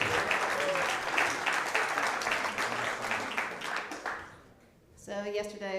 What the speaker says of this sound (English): Give Terry a warm round of applause.